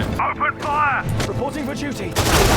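Tanks and infantry trade fire in Sudden Strike 4, with bursts of gunfire and booms mixed in among shouted in-game voices and close talk.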